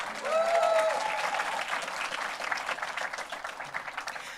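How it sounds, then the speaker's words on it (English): Audience at the MACRI Symposium bursts into dense, sustained applause for the MC, loud at first and tapering slightly while the clapping continues throughout. "How about a round of applause for our MC?"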